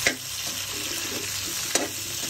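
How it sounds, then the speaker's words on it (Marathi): Large cubes of onion sauté in a hot pan for mushroom chilli dry, with a steady close sizzle and two sharp clinks of a spoon against the pan. "असं मोठे मोठे कांद्याचे क्यूब करून घेतले। आणि आपण हे छान परतून घेऊया।"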